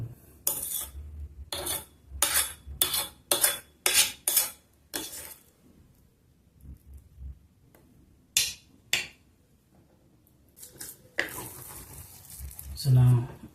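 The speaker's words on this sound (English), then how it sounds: "I have to scratch it against the wall so it becomes softer to turn into a ball" Cooked rice scraped and pressed against the wall of a pot with a spoon to make omotuo balls, a series of close scraping and clanking strokes in bursts, with pauses and a voice talking.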